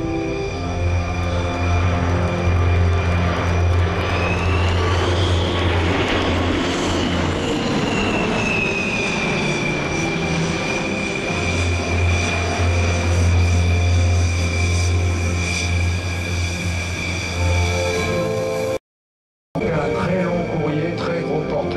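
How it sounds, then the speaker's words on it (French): An Airbus A380 airliner flying at the Paris Air Show at Le Bourget in 2009, a loud sustained jet roar with a shifting whine that holds steady for about twenty seconds, breaking off briefly near the end. "Le plus grand avion commercial du monde"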